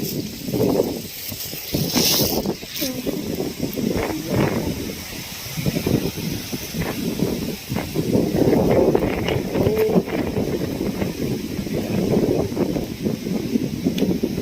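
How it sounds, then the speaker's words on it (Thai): Strong wind gusting across an open rice field during a rainstorm, a steady broadband roar with buffeting against the microphone throughout, sustained and close. "ลม"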